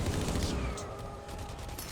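Rapid burst of minigun fire in the Blacklight shooter game, a rattling volley in the opening moment that trails into a fading mechanical whir and tail, no talk.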